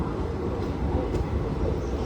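A train rolls into Abu railway station with a steady, heavy rumble and a broad mechanical hiss, continuous and close, without any voices.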